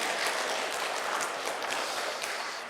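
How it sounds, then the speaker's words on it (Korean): A church congregation at a women's prayer meeting gives a round of applause after a sung hymn, dense continuous clapping from many hands filling the hall, fairly loud and steady before tapering slightly. "다시 한번 큰 박수 부탁드리겠습니다."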